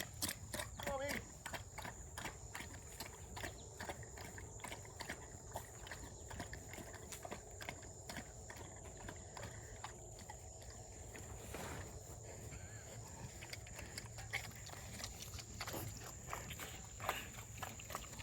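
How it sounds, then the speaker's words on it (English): Pigs on a farm being slowly herded along on foot, with scattered hoof steps and shuffling under occasional calls and speech from the person moving them. "So when you're moving pigs, you got to be patient with them"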